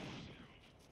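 Gunfire in the survival video game SCUM, a single sharp, dense crack that fades into a quick rumbling tail within a second.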